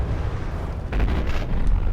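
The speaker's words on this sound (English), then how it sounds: "Just in time to see some torpedoes come in on Fat Onyx" Torpedoes strike a battleship in a naval combat video game, a deep rumbling explosion swelling after a low steady drone, loud and close.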